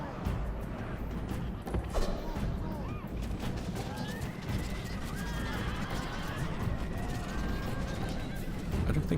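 Horses neighing amid a battle in the strategy game Rome: Total War, whinnies rising over a dense, mid-distance din of hooves and combat noise.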